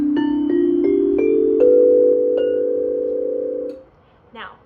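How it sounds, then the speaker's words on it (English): Metallophone bars struck with a mallet, held a little below halfway up the handle: about seven bright ringing strikes in a steady rhythm, each tone sustaining and overlapping into a long metallic hum that fades, with a brief rustle at the end. "I have my mallet, I'm going to hold it about a little less than halfway up, and I'm going to play on my metallophone."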